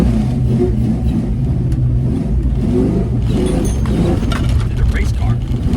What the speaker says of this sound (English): It's a race car.